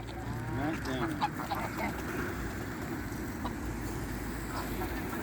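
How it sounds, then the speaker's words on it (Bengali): A crowded flock of ducks gathers at feeding time, a dense continuous mass of quacks and honks nearby with some louder individual calls, under a faint background murmur. "হাঁসের মেলা বসেছে এখানে।"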